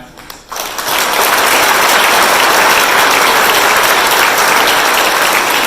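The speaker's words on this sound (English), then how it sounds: "let's have a round of applause for all these outstanding athletes" A banquet crowd breaks into loud applause for high school scholar athletes after their plaques are handed out. The clapping swells within the first second and stays dense and steady, close and full, with no voices over it.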